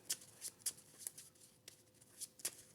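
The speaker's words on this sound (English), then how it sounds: "So I'm going to shuffle all of these together" A deck of Marvel Champions villain encounter cards being shuffled together, with a series of crisp riffling bursts spaced irregularly across a quiet background, close and fairly soft.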